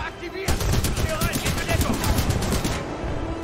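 Rapid gunfire from players in the shooter game Titanfall 2, a loud dense rattle of automatic shots that starts abruptly and continues steadily for about three seconds.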